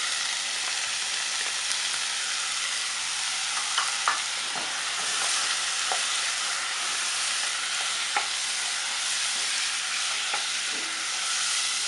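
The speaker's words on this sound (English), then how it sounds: "So I'm just going to mix in these vegetables. Make sure they're all saturated with the oil mixture I just did." Carrots and pumpkin frying in an oil mixture while being stirred, a steady loud sizzle with occasional soft scrapes of the spoon through the vegetables.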